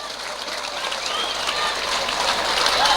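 Audience applause at a pengajian, an Islamic religious lecture held at a school: a dense, continuous wash of clapping that swells slightly over a few seconds, with no talking.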